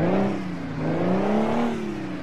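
A Detroit diesel engine in a Mack Superliner truck revving in American Truck Simulator, its pitch climbing and wavering at high revs, loud and continuous without speech.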